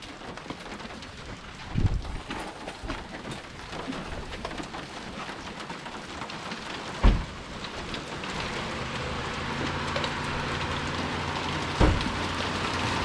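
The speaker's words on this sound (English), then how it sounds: "It's gonna rain!" Steady rain falls on a hard surface, a continuous patter with a few louder knocks and bumps, and faint birds calling in the background.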